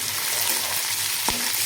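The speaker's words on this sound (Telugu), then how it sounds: "ఈ అల్లం ముక్కల్ని దీంట్లో వేసేసుకోవాలి" Ginger pieces for chicken soup fry in a hot pan with a steady, loud sizzle throughout, and a single brief knock partway through.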